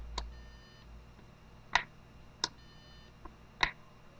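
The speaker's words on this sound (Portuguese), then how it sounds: "Pelo menos um barulhinho, um bip, ele faz." An electronic appliance control board gives four short, sharp beeps spaced irregularly over a few seconds, each one clear and fairly close against a quiet background.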